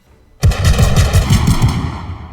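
Assault rifle gunfire in a video game: after a brief quiet moment, a loud, close burst of rapid automatic shots rattles on steadily for about two seconds, then cuts off abruptly.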